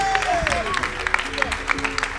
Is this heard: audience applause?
yes